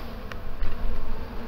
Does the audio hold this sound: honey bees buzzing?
yes